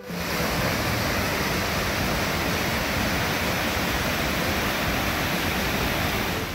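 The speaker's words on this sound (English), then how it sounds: "when you stumble upon this cascading waterfall" A steady, loud rush of a cascading waterfall in the North Cascades roars without pause, a dense broadband wash that stays constant from start to finish.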